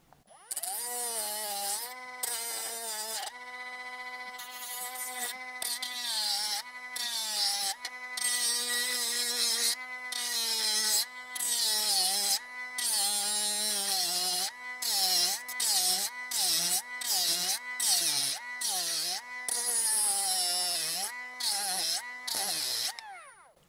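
Bosch GWG 12V-50 S cordless grinder sanding spruce wood outdoors, a high whirring motor whine broken into many short bursts and brief pauses, with rubbing abrasive noise on the wood.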